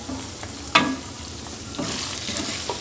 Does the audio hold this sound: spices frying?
yes